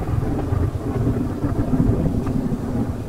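Steady rain pours with a low, continuous thunder rumble in the Choo-Choo Charles game, loud and unbroken throughout with no voices.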